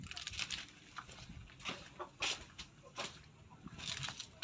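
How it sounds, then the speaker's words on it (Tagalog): Chicks feeding near a hen on a farm, faint scattered peeps and soft clucks with light pecking rustles, some distance off and quiet against a hushed outdoor background. "Doon sa may nanginginain yung mga sisiw."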